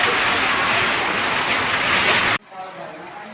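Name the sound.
rain with hail falling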